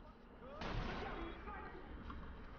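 Gunfire in the video game Watch Dogs: a single muffled shot with a low boom rises over a steady bed of game ambience and noise.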